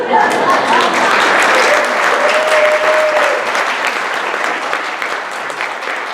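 Audience applause for a comedian at a comedy class showcase, dense and sustained clapping that tapers slightly toward the end, with a faint voice running beneath it.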